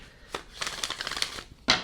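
Tarot cards are shuffled in a quick riffling flurry of soft papery flicks, with a couple of isolated snaps and a louder card slap at the end, close and fairly quiet.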